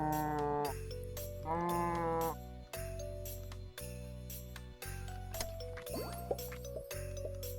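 Cows in the video game Terracards give a string of drawn-out moos, one after another with short gaps between them, clear and up front against a soft game backdrop.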